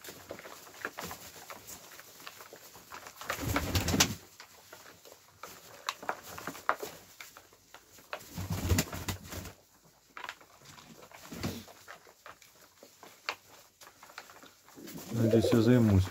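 Iranian fighting pigeons in a winter loft give soft low coos in a few bursts, with light fluttering and scuffling around them and a person talking between the calls.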